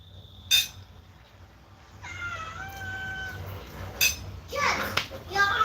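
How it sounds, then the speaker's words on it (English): A cat meows with drawn-out harmonic cries in the middle of the clip, moderately close, while children's voices and short bursts of talk come and go around it. "Cat, you're hungry."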